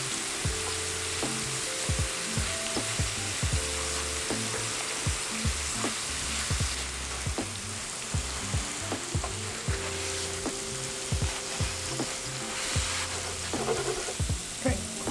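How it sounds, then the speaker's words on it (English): Tortillas fry in a pan of hot oil, a steady close sizzle with sharp crackles and periodic scraping or stirring clicks, under a low background hum and musical tones, with no talking. "Once the oil's nice and hot, add in the tortillas and just let those get a little bit crispy."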